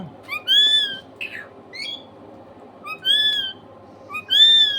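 A pet talking parrot gives several bright, harmonic calls and mimicked phrases in short bursts close by, over a low steady background hum.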